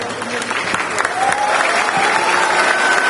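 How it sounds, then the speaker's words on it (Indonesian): Audience applause at a Q&A session between a presidential candidate and students in Pontianak, steady dense clapping throughout with a crowd murmur mixed in. "Tepuk tangan untuk Ray."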